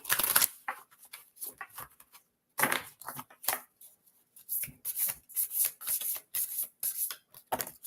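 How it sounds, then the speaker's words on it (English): A deck of cards being shuffled and a card drawn, a run of quick riffling bursts close up, with short pauses between them. "I'll pull a card for each of you."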